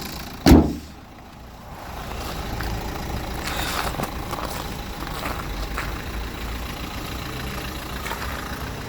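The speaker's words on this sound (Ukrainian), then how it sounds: "антифріз у нас на місці оригінал, жовтенький, двигун шепче" A sharp thump opens, then the 1.5 dCi diesel engine of a 2014 Renault Megane idles with a steady low rumble, close and even throughout.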